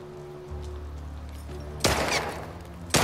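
Gunfire in The Last of Us Part 2: a loud burst of shots lands in the middle over a low steady game hum, and one more sharp shot rings out at the very end, with no talking.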